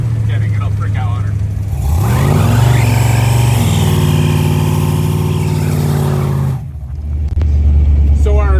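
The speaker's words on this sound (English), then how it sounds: "So our quick 3-second burnout just so happened to get us a ticket." A 1962 Ford Falcon gasser does a burnout on the road. The engine climbs into a loud, sustained roar held for several seconds, then drops back to a deep, rumbling idle.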